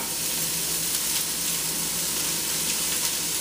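Onions sizzle steadily in a hot soup pot as they start to caramelize, a dense, even frying hiss running close and loud throughout with no voices.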